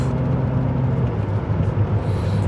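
Renault Vel Satis with a struggling sealed-for-life gearbox while driving, a steady loud engine and road drone with a low whirring hum inside the cabin, continuous throughout.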